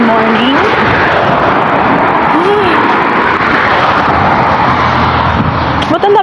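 Busy road traffic on a cold Saturday morning in Taiwan makes a dense, continuous roar of passing vehicles, loud and close throughout, while a person talks over it.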